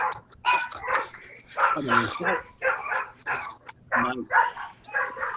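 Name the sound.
dog barking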